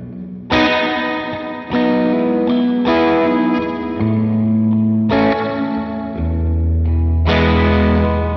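Electric guitar chords ring out one after another through a BOSS TE-2 Tera Echo delay pedal set as reverb, each washed in a long, lush tail that blends into the next, with no talking.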